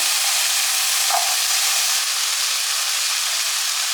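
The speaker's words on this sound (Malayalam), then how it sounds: "അപ്പോൾ ഈ ഉരുളക്കിഴങ്ങ് കൂടെ ഇതിലേക്ക് ഇട്ട് കൊടുക്കാം. ഉരുളക്കിഴങ്ങ് നമ്മൾ നന്നായിട്ട് മുരിച്ചെടുക്കുകയാണ് ചെയ്യുന്നത്" Cut potatoes frying in a pan for an egg and potato fry, giving a loud, steady close-up sizzle and hiss that holds unbroken throughout, with no voices.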